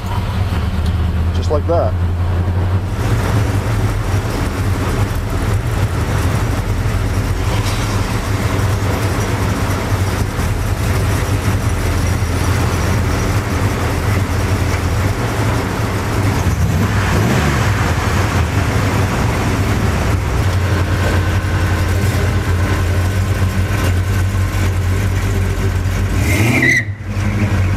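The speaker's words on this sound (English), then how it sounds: "Truck started and we're out on our little drive" An old truck runs with a steady low engine drone while driving, the rumble continuous under someone talking briefly, with a short sharp noise near the end.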